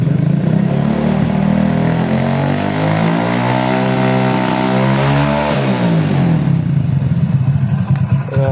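A motorcycle engine idling near 885 RPM in a quiet neighborhood is revved up, its pitch rising smoothly and holding before dropping back to a loud, close, lumpy idle.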